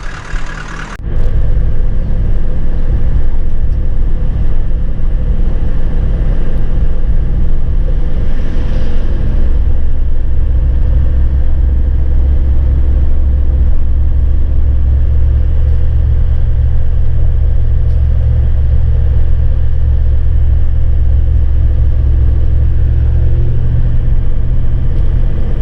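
A car drives along a road through the Victorian High Country near Sheepyard Flat, a loud, steady low engine and road rumble filling the cabin continuously after a brief start, with no talking.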